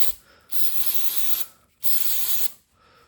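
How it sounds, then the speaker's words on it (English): Two long hissing bursts of aerosol sensor cleaner sprayed onto the MAF sensor of a Subaru Forester, each about a second, separated by a short pause, close and loud. "what I like to do is just spray against it in multiple angles"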